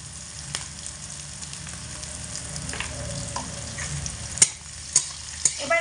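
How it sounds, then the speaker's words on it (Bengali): Jackfruit seeds fry with onion, garlic, salt and turmeric over medium heat, a low continuous sizzle with a few sharp clinks of a utensil against the pan toward the end. "এবার এগুলোকে মিডিয়াম আঁচে রেখে ভালো করে লাল লাল করে ভেজে নেব"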